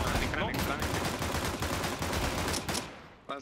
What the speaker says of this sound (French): Il rafale au dual elite